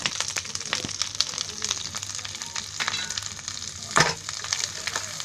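Chopped onion added to hot oil with cumin for a lemon egg curry, crackling and sizzling steadily up close, with a sharper spattering burst partway through.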